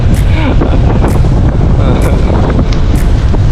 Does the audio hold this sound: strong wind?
yes